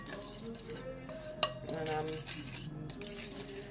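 A wire whisk stirs dry baking ingredients, including granulated sugar, in a bowl, giving light scraping swishes and scattered metallic clinks against the sides, with one sharper tap near the middle.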